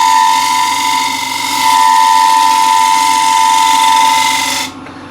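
Wood lathe spinning an enclosed vessel while a refiner tool is held as a shear scraper, giving a steady loud whine with a high tonal hum throughout that cuts off abruptly near the end.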